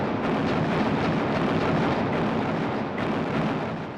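Naval cruisers open fire in darkness on the battleship Scharnhorst, a heavy, continuous rumbling roar of gunfire and blasts, loud and close, easing slightly near the end.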